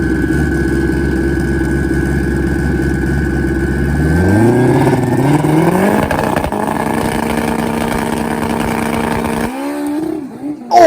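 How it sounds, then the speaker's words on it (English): A turbocharged Suzuki Hayabusa drag motorcycle running on alcohol idles loudly, then launches with a rising roar as its rear tire spins hard at the hit, the engine note climbing steeply before cutting off. "He spins the tire hard at the hit."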